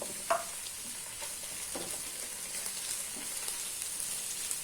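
Capsicum sautéing with ginger garlic paste and vegetables for masala pasta, a soft, steady low sizzle with occasional stirring scrapes and clicks, fairly faint and continuous, no talking.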